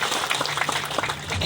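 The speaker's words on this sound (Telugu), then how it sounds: "చప్పట్లు కొట్టాలి" A crowd claps at a foundation-stone ceremony for a new bus station, a short, dense burst of applause heard at moderate level.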